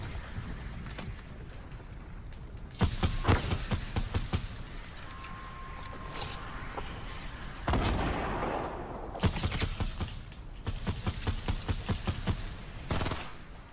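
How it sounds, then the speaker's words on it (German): Gunfire in the Fortnite video game, repeated bursts of rapid shots with explosive cracks and short pauses between volleys, loud and near. "Ich schieße auch noch rein."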